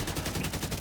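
Rapid gunfire in a shooter video game, a dense burst of repeated shots loud and continuous, with no voices over it.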